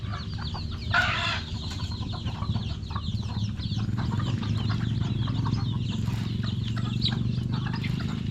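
Several chickens clucking and murmuring nearby, a busy steady chatter with occasional louder squawks over a low background hum.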